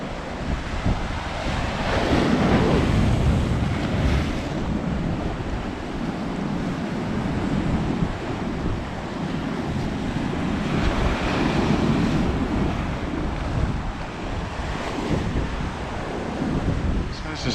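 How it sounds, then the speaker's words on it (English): Rough sea waves surge and wash continuously near the shore at San Agustin, with heavy wind buffeting the microphone throughout. "The sea is looking a little bit rough today."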